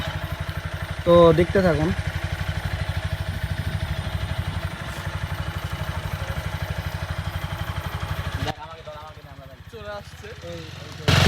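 A motorbike engine passes close by with a steady mid-pitched drone and clatter that fades toward the end, while someone talks over it.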